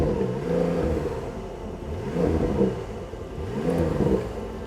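A 2021 Porsche 911 Turbo S Cabriolet (992) engine revs up and eases off several times, a throaty mid-pitched roar rising and falling nearby, with no talking.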